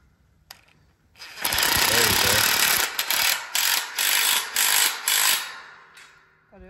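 A socket wrench tightens a bolt outdoors, whirring in several loud, close mechanical bursts that pulse on and off for about five seconds.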